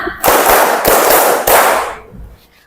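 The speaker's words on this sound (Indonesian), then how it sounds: "supaya kita semangat kita tepuk dulu yuk" Fourth-grade pupils in a classroom clap a rhythm in unison, three loud group bursts of many hands close together, fading out near the end.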